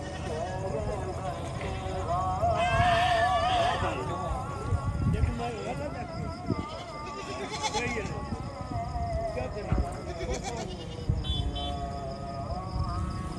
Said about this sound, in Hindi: बहुत प्यारे प्यारे बकरे मौजूद है इस मंडी के अंदर